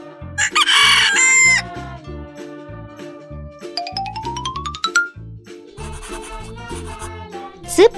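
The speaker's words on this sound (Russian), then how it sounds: "Петух." A rooster lets out a loud, bright cock-a-doodle-doo near the start, followed by playful children's cartoon music with plinking notes and a rising slide, plus a short squawk at the very end.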